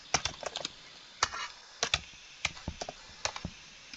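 Fast, irregular clicks of someone typing on a computer keyboard with a broken L key, close and fairly quiet, with short pauses between bursts of keystrokes.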